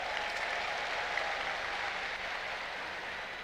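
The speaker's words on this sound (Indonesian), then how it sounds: "boleh beri tepuk tangan kepada mereka" Applause from a large crowd at a party anniversary rally, a distant, even wash of clapping that holds steady throughout with no talking.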